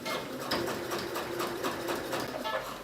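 Sewing machine stitching in the ditch along a trouser back pocket, a fast, even mechanical whir with light ticking, close and continuous for a few seconds.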